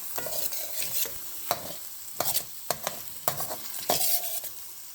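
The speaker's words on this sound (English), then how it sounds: "Keep stirring to combine the taste." A utensil scrapes and stirs fenugreek paneer curry in a pan, irregular scraping strokes over a soft background sizzle of frying.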